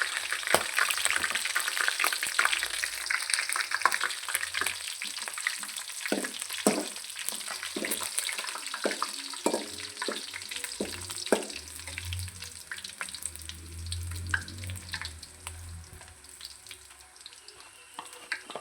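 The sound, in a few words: red Byadagi chillies frying in a pan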